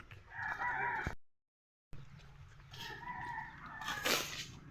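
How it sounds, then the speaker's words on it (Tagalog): A rooster crows twice, fairly close, with a short silent gap between the calls and faint farmyard background. "Ating manok"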